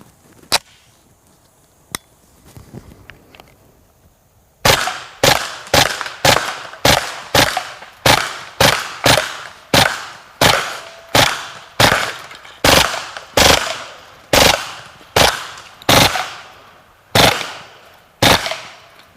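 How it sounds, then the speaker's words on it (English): Kriss Vector submachine gun fired outdoors with Plus P, ball and incendiary ammunition, a quiet opening followed by a long string of sharp, loud shots in a steady rhythm with brief gaps between them. "you can actually hear the difference in the rate of fire between the Plus P ammunition and some of the regular ball ammunition versus incendiary"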